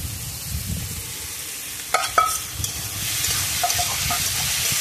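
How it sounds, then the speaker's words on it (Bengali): Pre-fried potatoes go into a pan of ridge gourd frying for prawn jhinge posto. A soft, even sizzle carries throughout, broken by a few sharp clinks of a utensil on the pan, then the frying swells slightly louder. "এবার আমি এই ভেজে রাখা আলুগুলো দিয়ে দেবো।"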